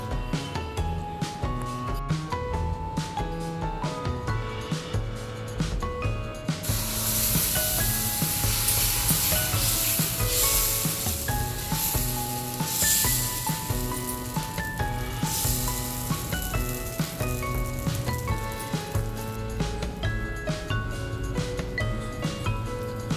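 Oil and batter hiss steadily on a hot cast dosa pan over a stove, a broad sizzle that swells sharply after a quieter start and holds loud, with tonal music running underneath throughout.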